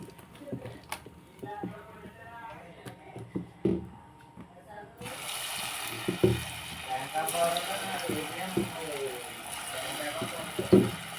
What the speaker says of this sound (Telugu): మనం ఇప్పుడు ఇవి ఆయిల్లో వేసేసుకుందాం ఇవ్వండి ఆయిల్ కాగింది కదండి